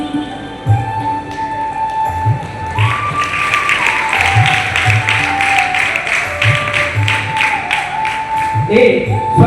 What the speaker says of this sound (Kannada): ತಮ್ಮೆಲ್ಲರ ಕರತಾಡನದ ಚಪ್ಪಾಳೆಯ ಮುಖಾಂತರವನ್ನ ಈ ಕಾರ್ಯಕ್ರಮಕ್ಕೆ ಪ್ರೀತಿಪೂರ್ವಕವಾಗಿ